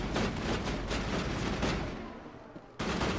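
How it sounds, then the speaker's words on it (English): Gunfire in the Mass Effect video game, a dense continuous barrage of rapid shots and blasts that thins out briefly before the firing resumes sharply, with no talking. "Whatever they're shooting at, it's over here."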